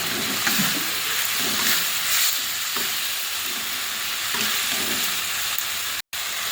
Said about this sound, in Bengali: এবার ভেজে রাখা মাছটা দিয়ে নাড়াচাড়া করে জল দিয়ে দেব